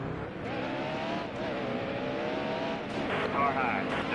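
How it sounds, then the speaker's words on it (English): Stock cars roar around Bristol in NASCAR Heat Evolution, engines droning steadily with a brief tire squeal and crash noise near the end, under a commentator's speech. "There's a wreck in turn 3."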